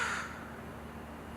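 Crows in a garden on a sunny day give a single loud caw at the start, then fade into quiet outdoor background.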